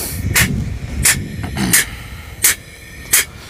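A diaphragm pump moving fuel and waste motor oil gives a steady run of sharp, hissing pulses, roughly five evenly spaced strokes over a low mechanical rumble, close and moderately loud.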